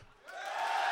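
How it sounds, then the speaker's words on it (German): Concert crowd at a festival show lets out a short, rising South American-style cheer, a brief burst of voices and whoops that swells quickly within about a second. "Probieren wir nochmal so einen südamerikanischen Applaus."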